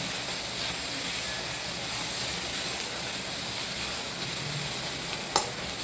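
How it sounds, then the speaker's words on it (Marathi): Chickpea and potato masala (chole batata) sautéing in a pan gives a steady, even sizzle that stays close and constant throughout, with no talking. "परतून घेऊ आपण याला।"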